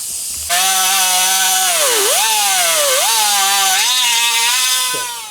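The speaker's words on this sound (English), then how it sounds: "The reason I'm doing this here is to cut out the old crack and get rid of all that cracked aluminum" A power tool grinds through cracked aluminum on a wheel, a loud, close, high whine whose pitch dips and recovers several times as the cutter bites into the metal, with no talk over it.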